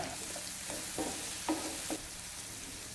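Bitter gourd pieces fry in about three tablespoons of coconut oil, a steady sizzle broken by several short stirring scrapes spaced roughly half a second apart, close and without any talk.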